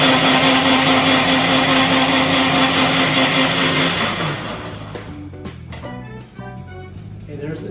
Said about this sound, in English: Here comes the blender.